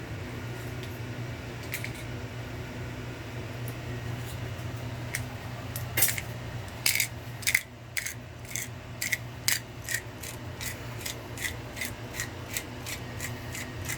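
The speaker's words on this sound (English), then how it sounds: "We're using fresh ground black pepper." Fresh black pepper being ground by hand over a thick seafood linguine sauce, a rapid series of dry, crisp grinding clicks in close succession after a few scattered turns, over a low steady kitchen hum.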